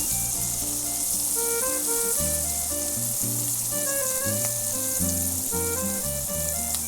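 Shrimp frying in oil in a tilted pan on a stove, a steady loud sizzle that runs unbroken throughout, with background music and no voices over it.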